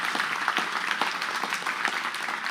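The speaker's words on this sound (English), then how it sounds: "let's give them a round of applause one more time." An audience at an adult Bible fellowship class at Compass Bible Church applauds the Koukl family, a steady wash of many hands clapping at moderate level throughout, with no talking.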